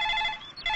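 Telephone ringing with a steady electronic ring tone, loud and close, briefly dipping mid-ring before resuming, with no voices.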